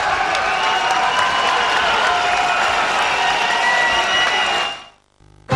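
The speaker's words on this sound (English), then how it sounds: "he's got a big crowd here cheering for him" A big crowd cheering and applauding at a boxing match, a loud continuous roar of clapping and voices that holds steady then cuts off abruptly near the end.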